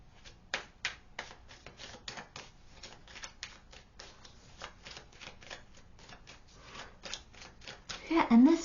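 Tarot cards are shuffled in quick, sharp clicks and flutters close to the microphone, arriving in a steady irregular patter, with a voice briefly heard near the end.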